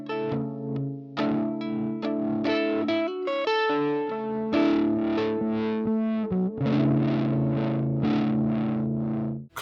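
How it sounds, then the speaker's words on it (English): Electric guitar played through a Chase Bliss Clean compressor pedal rings out in picked chords and melodic runs with even, sustained notes, loud and close throughout with no voices. "Simply put, the clean makes guitar playing fun by using compression."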